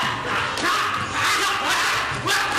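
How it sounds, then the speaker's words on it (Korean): A taekwondo demonstration team gives loud, forceful shouts in short bursts before a crowd during board-breaking, with brief sharp impacts mixed into the yelling. "힘찬 구령과 함께 태권도 시범단의 격파 시범이 펼쳐집니다."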